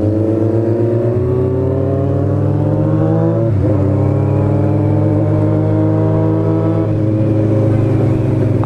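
Straight-piped motorcycle exhaust, from a group of bikes including a Kawasaki Z1000, Yamaha Fazer 600 and Suzuki Bandit 600, revving loud and close with rising harmonic sweeps and a gear-like shift partway through, continuous throughout.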